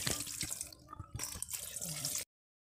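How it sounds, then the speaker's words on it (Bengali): Fish being washed under running water at a village home, a close splashing and dripping of tap water that stops abruptly. "সেই জন্য মাছটাকে ধুয়ে নিই, তারপরে ওগুলো কাটবে।"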